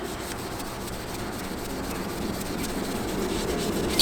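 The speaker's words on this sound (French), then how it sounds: "Vive la laine d'acier." Steel wool scrubbed back and forth over oxidized motorcycle chrome, a steady close abrasive rubbing that continues without pause and grows slightly louder toward the end, with no voices.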